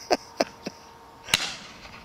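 Shotguns go off at a pheasant and partridge shoot in Dorset as several distant reports: three quick sharp cracks in a row, then a louder shot with a lingering rolling echo across open country.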